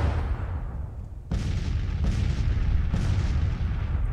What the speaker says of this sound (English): We got artillery, the Louisiana batteries, firing into these guys from the rear.